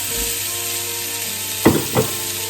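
Curry paste and bitter gourd stir-frying in a pan: a constant oily sizzle with two sharp scrape-and-toss sounds from the stirring utensil near the end, close and clear, no talking.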